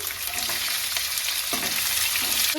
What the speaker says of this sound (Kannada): ಇವಾಗ ಇದರೊಳಗಡೆ ನಾನು ಕರಿಬೇವು ಸೊಪ್ಪನ್ನು ಹಾಕೊಳ್ತಾ ಇದ್ದೀನಿ ನಾನು ಇದರೊಳಗಡೆ ಮೆಣಸಿನ್ಕಾಯಿನ ಹಾಕೊಳ್ತಾ ಇದ್ದೀನಿ